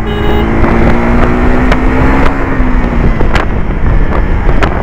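A 2025 KTM Adventure 390 motorcycle roars steadily at high speed with strong wind rush, the engine pitch holding then easing slightly, loud and continuous.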